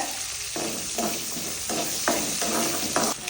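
Onion and curry leaves fry in oil for an okra tamarind curry, a continuous close sizzle with a run of rhythmic scraping stirs about every half second, and no talking.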